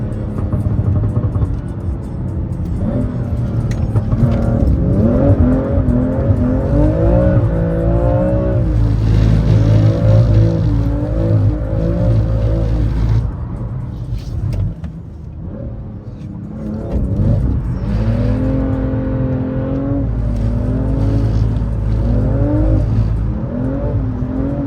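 A car is driven hard around a circuit track at speeds near 220 km/h, its loud engine droning close up and steady, with the pitch rising and falling through repeated gear changes and heavy throttle.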